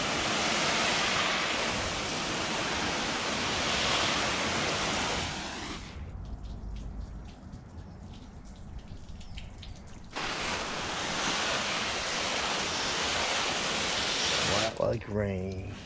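Water sprays in a loud, steady hiss onto a car body coated with Chemical Guys Hydrocharge ceramic spray, stopping for several seconds midway and then resuming at full strength.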